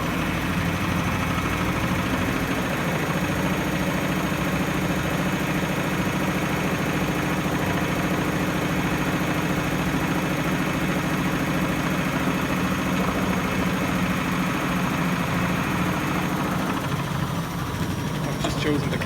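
A Bosch washing machine on its fastest 1000 rpm spin cycle drones loudly and steadily for the whole stretch, a dense rumbling hum with constant vibration and no break.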